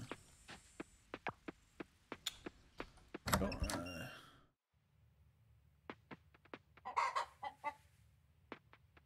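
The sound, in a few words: chickens clucking in Coral Island video game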